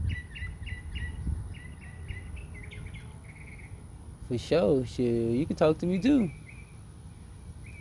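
Small birds chirp outdoors in short repeated bursts, fairly near, as someone talks loosely in the foreground.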